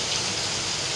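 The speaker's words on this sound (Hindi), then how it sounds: "बस बारिश रोक दे, बहुत हो गया।" Heavy monsoon rain pours down in a steady, dense hiss, loud and unbroken for a brief moment.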